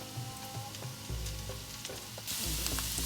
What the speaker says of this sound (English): Okay, I'm adding the chili now, green chili.